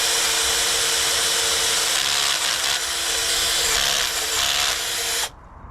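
A drill with its clutch engaged bores through an aluminium bike rim, giving a steady close whine with rattling, ratcheting clicks as the bit catches, before stopping suddenly.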